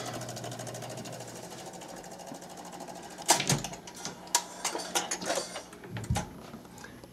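A 1972 Seeburg Olympian SPS 160 jukebox whirs with a steady mechanical hum as its selector mechanism runs, then a burst of clicks and clacks as the record is chosen and set spinning, close and without talk.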